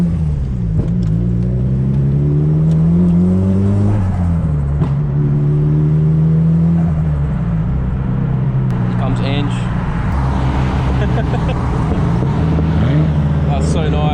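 Nissan Silvia S15 cruising among other cars, its exhaust rumbling through repeated rising and falling engine sweeps, close and loud, with sharp crackling pops and people talking over it.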